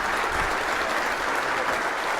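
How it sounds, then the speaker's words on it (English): Audience applause at a security conference opener, a dense steady wash of clapping from a large crowd, loud and continuous throughout with no talk over it. "give him one last round of applause for his efforts"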